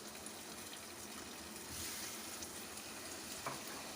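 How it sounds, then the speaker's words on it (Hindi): Water poured into a pan of cooking chicken, a steady close gushing hiss that swells slightly midway and runs unbroken for a few seconds, with no voices. "हम इसमें थोड़ा सा पानी डालेंगे"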